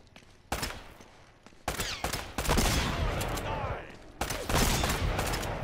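Bursts of gunfire from the video game Uncharted: Drake's Fortune arrive in several sharp volleys, some overlapping into rapid fusillades, loud and close, with brief quieter gaps between them.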